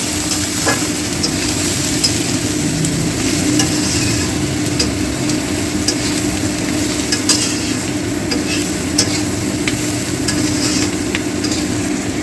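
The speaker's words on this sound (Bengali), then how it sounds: "হলুদ, কাশ্মীরি লাল লঙ্কার গুঁড়ো, জিরে আর ধনে গুঁড়ো, একটু নাড়িয়ে নিই" Turmeric, Kashmiri red chili, cumin and coriander powders with salt are stirred in a sizzling pan for mutton curry, giving a loud, constant frying hiss with soft scraping from the stirring.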